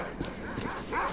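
Dogs barking in STALKER: Clear Sky, several short yips and barks close by over a dense game background.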